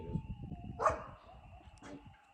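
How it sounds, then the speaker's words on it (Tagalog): Coyotes yipping and howling outside at night, two brief high wavering calls rising over a steady background hum and rustling noise, somewhat distant. "I'm listening to coyote."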